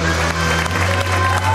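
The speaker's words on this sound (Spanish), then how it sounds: "Vamos a recibir con un fuerte aplauso a Rafaela Martos." A television studio audience applauds as Rafaela Martos is welcomed, brisk clapping under a sustained tonal music bed that shifts pitch partway through, short and fairly loud.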